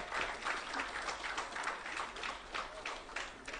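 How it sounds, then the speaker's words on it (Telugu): An audience at a conclave claps in sustained applause, a dense crowd of hands rising and falling in waves for a few seconds with no voices over it. "big clap"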